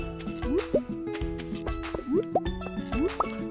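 Water refilling in the video game Stardew Valley: repeated bubbly plopping and rising gurgling drip sounds in a regular rhythm over soft background music, fairly faint.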